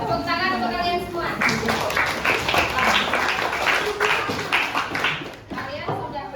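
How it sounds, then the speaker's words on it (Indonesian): Students clapping in a classroom, a lively burst of applause following and partly overlapping a spoken voice, fading toward the end. "Tepuk tangan untuk kalian semua."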